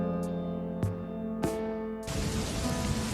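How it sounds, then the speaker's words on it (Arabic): Heavy rain, evoking the flood that struck Pharaoh, bursts in as a dense, steady hiss over a sustained droning musical bed, filling the final second. "صارت على فرعون فيضانات وأمطار رهيبة"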